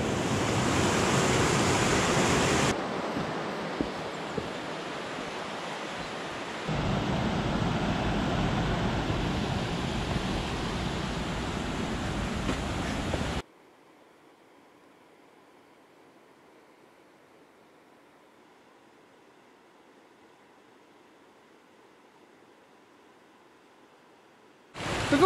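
A river on Exmoor rushes loudly as a steady, broadband roar of flowing water, which cuts off about halfway through and leaves near silence.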